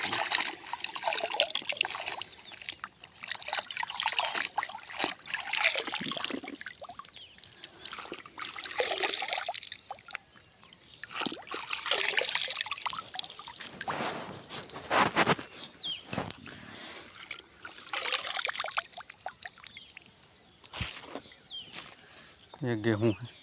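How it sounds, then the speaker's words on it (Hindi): Running water splashes and trickles steadily through the scene while produce is washed outdoors, with people talking over the sound of the flowing water. "चलो तो इन्हें धुल लेते हैं ताकि फ्रेश हो जाए।"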